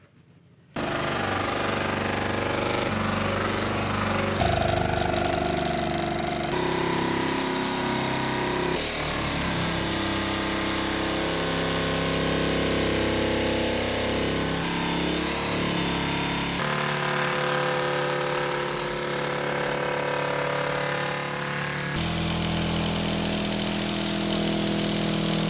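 Power sander fitted with flap sandpaper grinding on a vintage aluminum camper, a loud continuous motor whine with harsh abrasive rasp that holds steady throughout, close up.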